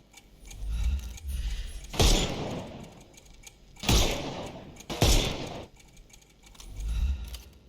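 Gunfire in the video game Sherlock Holmes Chapter One, three sharp bursts of shots spaced about a second or two apart, loud over a low rumbling game background, no talk.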